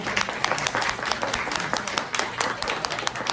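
Audience at an outdoor charity auction for football fan memorabilia breaks into a burst of dense, close clapping with scattered sharp claps, lasting the whole moment.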